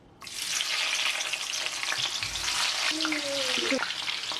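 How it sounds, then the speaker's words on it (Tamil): Salted, cut carrots fry in hot oil in a pan for a vegetable upma, a dense steady sizzle that starts abruptly and carries on, with a brief stirring scrape partway through. "இப்போ கேரட்டையும் போட்டு நாங்கள் கொஞ்சம் பொரிச்செடுப்போம்."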